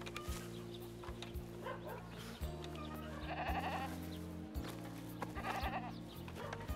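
A goat bleats in a couple of wavering calls over a steady low hum and background music, mid-distance and moderately loud.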